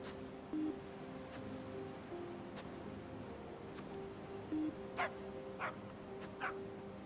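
A dog in the video game The Magnificent Trufflepigs gives a few short, distant barks over a quiet outdoor ambience in the later seconds, with no talking.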